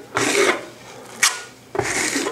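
Trowel spreading a sandstone-aggregate plaster coat, two close gritty scraping strokes with a brief sharp scrape between them and no speech.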